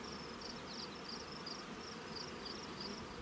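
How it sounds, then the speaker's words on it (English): Honey bees buzzing thickly inside an open hive crowded with brood frames, a steady close drone with no voices. "There's so many bees in here."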